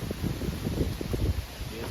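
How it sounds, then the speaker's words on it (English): Gusty wind buffets an outdoor spot in the aftermath of Hurricane Helene, where trees are down all around, rumbling low and steady against the microphone with rustling bursts throughout. "It's still pretty windy."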